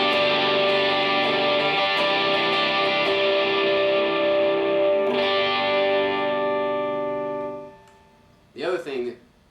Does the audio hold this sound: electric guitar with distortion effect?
yes